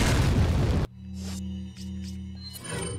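A grenade blast in the Resident Evil 4 video game: one loud, broadband boom that cuts off abruptly, leaving a steady low game hum with faint scattered effects.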